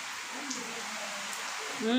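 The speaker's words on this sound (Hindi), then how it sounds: "थोड़ा सा जोर आ रही बारिश।" Broad, steady hiss of heavy rain falling continuously, fairly close, with a faint voice rising briefly at the end.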